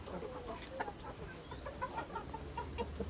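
A hen that seems unwell or in pain clucks softly and repeatedly, close by, in short uneven bursts over a faint background hum.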